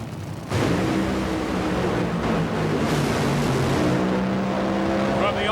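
A Top Fuel dragster, the Team Winston car, roars through a race run, a loud continuous blasting engine roar that kicks in abruptly and holds steady at full power.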